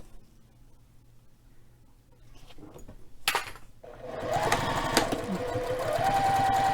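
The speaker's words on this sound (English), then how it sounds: "Now we're going to sew just to my marks." A sewing machine starts up after a quiet stretch of handling and runs in a steady close mechanical whir while stitching a fabric bag.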